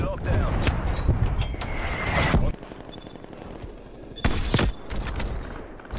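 Gunfire in the Call of Duty Cold War video game: bursts of rapid shots and mechanical clatter under voices and game announcer lines, loud at first, then a quieter stretch and another sharp burst.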